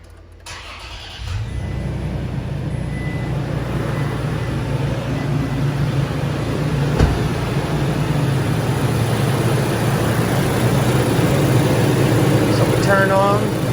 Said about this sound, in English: I'm actually going to start my car.